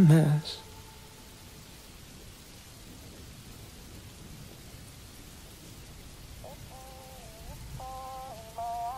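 Steady rain hiss with rumbling thunder runs underneath a looped pop song, soft and continuous. A few faint musical tones surface near the start and end.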